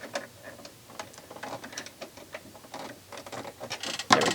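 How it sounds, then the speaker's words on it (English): A screwdriver tightening the screw on a sewing machine's presser foot, heard as a run of small close metallic ticks and clicks in an irregular rhythm, ending in a brief louder rattle. "And tighten this with a screwdriver."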